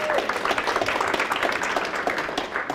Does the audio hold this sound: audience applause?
yes